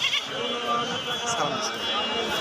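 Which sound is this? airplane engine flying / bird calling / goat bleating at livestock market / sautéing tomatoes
goat bleating at livestock market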